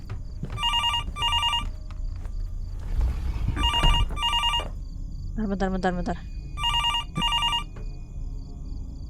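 A telephone in the horror game Fears to Fathom: Norwood Hitchhike rings repeatedly in loud, trilling bell bursts with short gaps, while someone talks briefly between rings and other game sounds intrude.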